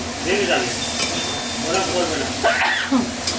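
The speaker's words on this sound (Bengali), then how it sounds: "1/2 চামচ জিরে এবং 1/2 চামচ লঙ্কা একসাথে ঢেলে নিচ্ছি একেবারে" Cumin and chili powder, added with coriander powder and turmeric, sizzle in hot oil while being stirred, giving a steady close frying hiss broken by scraping stirs.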